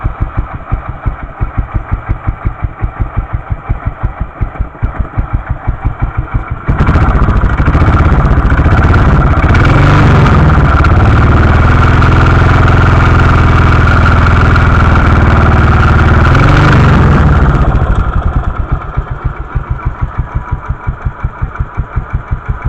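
A Royal Enfield 500 Bullet Electra motorcycle engine ticks over with a steady, loud single-cylinder thump, briefly revving up louder for several seconds in the middle before settling back to idle.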